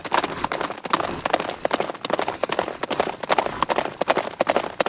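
Rapid clip-clop hoofbeats of a galloping horse in the video game Attack on Titan Last Breath, a steady driving rhythm running loud and close throughout the run.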